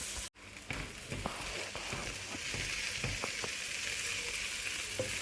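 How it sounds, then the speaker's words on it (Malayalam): Chopped ginger and garlic sauté in a hot pan for kappa biriyani, a steady close sizzle with scattered stirring clicks after a brief dropout near the start. "ഇഞ്ചി വെളുത്തുള്ളിയും നമ്മൾ ചോപ്പ് ചെയ്ത് വെച്ച് ഇവിടെ ആഡ് ചെയ്യാണ്."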